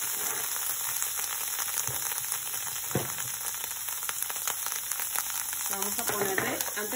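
Butter sizzles and fries steadily in a preheated skillet, a continuous crackling hiss with small pops, ahead of chopped onion and garlic for shrimp-stuffed güero chiles; a spoon stirs briefly near the end.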